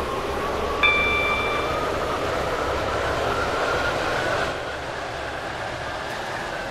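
Continuous rumble of a Class 195/1 passenger train running from Newry Harbour to Connolly in a train simulator, with a brief high tone early on and the noise easing slightly near the end.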